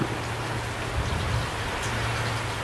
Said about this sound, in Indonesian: Pas di atas hujan lumayan deras.